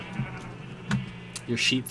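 Sheep bleats in the Minecraft video game, a few short nasal cries spread across two seconds, heard close and moderately loud over a faint background.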